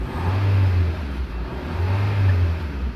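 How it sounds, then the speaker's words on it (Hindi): A Honda Civic with a faulty TDC sensor and trouble starting turns over, its engine settling into a steady low hum that swells in two broad surges, close by with no voices. "ये देखें अब ये हमारी गाड़ी स्टार्ट होगी"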